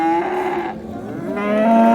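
A cow, seven months pregnant, at the Kırşehir livestock market lets out one long, loud moo close by, its pitch dipping and then rising again, with no talking.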